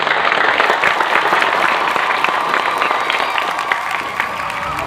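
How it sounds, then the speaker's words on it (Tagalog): Applause from an audience honoring Sir Jun at a Pampanga chapter gathering, a dense, steady wash of clapping that holds loud throughout and eases slightly toward the end, with faint crowd murmur underneath. "isang palakpak muna para kay Sir Jun."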